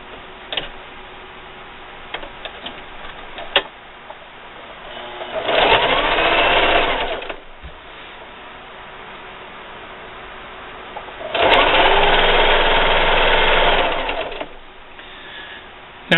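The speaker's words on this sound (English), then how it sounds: "Now sew it on." Sewing machine stitching binding onto a quilted patriotic table runner, two loud steady bursts of rapid whirring stitching about six seconds apart, with quiet ticks and handling sounds between.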